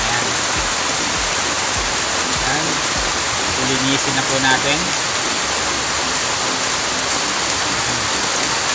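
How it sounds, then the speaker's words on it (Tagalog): Heavy rain pours steadily in a dense, continuous hiss, with a person talking briefly over it. "Lumakas na po ang ulan."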